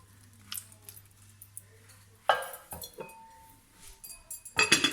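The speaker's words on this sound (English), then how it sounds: "I'm going to stir it." A spoon stirs food for a toddler-friendly family meal in a bowl, producing scattered metallic clinks and scrapes against the dish. The clinks come irregularly and grow louder and busier toward the end, with no speech.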